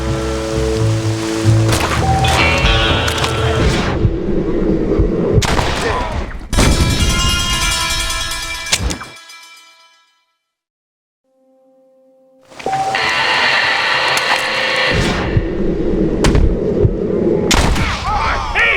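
Gunfire in the video game Red Dead Redemption, played on PC through the Yuzu Switch emulator: dense, loud bursts of shooting mixed with game noise fill most of the stretch, broken by a near-silent gap in the middle before the firing resumes.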